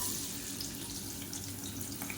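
Long-sliced large onion sizzles in hot oil in a pan while egg gravy is being cooked, a steady, fairly quiet hiss with no talking.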